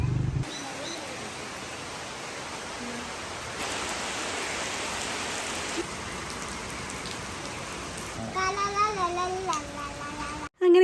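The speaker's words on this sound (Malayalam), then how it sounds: "അങ്ങനെ ഇത്തവണത്തെ നാട്ടിലത്തെ ആദ്യത്തെ മഴ കിട്ടി." Steady rain falls in Kerala in the first shower of the season, a continuous hiss of drops on surfaces running throughout, with a brief tonal chirp or voice-like sound near the end.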